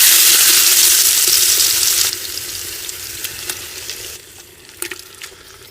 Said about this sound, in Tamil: இப்ப கடுகு எண்ணெய் சேர்த்துக்கலாம். அப்படியே அந்த மட்டனை அள்ளிங்க மண் சட்டியில் போட்டுடலாம்.